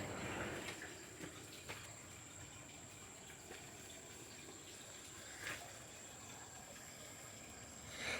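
Water from a hose gushes steadily onto plants in a tropical greenhouse in west Michigan, a continuous soft hissing spray with a few light splashes and knocks, faint and without speech.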